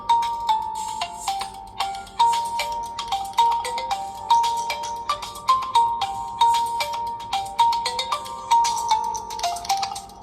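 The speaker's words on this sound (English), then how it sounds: "now there's ringtones. Here, let's hear the default first." A flip phone's default ringtone plays alone, a bright repeating electronic melody of short, evenly spaced beeping notes, loud and close, cycling through the same phrase several times.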